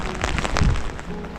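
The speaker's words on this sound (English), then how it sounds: "Raining quite hard." Heavy rain falls outdoors in the dark before sunrise, a dense, steady hiss of drops that stays close and fairly loud for the whole short stretch.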